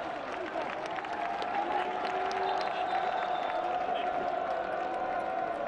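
A football stadium crowd murmurs and jeers in broad, steady displeasure, with a match commentator talking over the sustained roar throughout.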